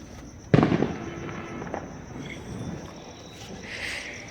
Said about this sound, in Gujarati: તો ચાલો હવે ફટાકડા ફોડવાનો ટાઈમ થઈ ગયો છે